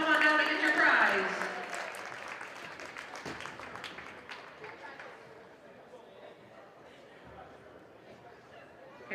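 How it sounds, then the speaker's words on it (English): Applause in a gym for a raffle winner at a girls' basketball game, loudest at the start and then thinning to scattered claps and crowd chatter as it fades. "Give Lily a round of applause."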